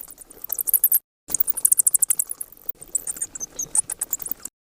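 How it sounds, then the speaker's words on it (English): A bat gives rapid bursts of shrill, high-pitched squeaks and clicks, close by, broken by brief silences. "The bat says screech screech."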